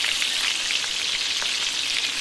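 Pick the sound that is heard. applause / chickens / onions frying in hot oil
onions frying in hot oil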